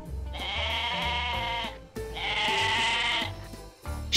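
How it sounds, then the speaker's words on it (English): A sheep bleats twice in long, wavering, nasal cries, each lasting over a second, close and loud over soft background music. "Sheep."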